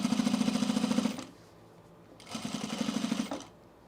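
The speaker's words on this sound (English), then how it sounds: "I'm sewing through the facing." A sewing machine stitches through the facing of a fleece quarter-zip pullover in two short bursts of fast, even needle hammering, separated by a quiet pause of about a second.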